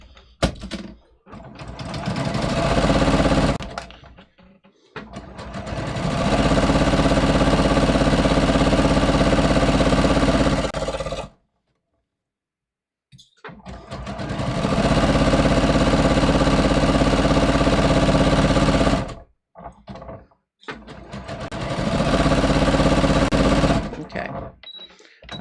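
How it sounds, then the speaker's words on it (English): A sewing machine stitches pleats onto a main skirt piece, running in several long, loud, steady bursts separated by pauses and a brief full silence, with no speech. "I'm gonna sew this to my main skirt piece"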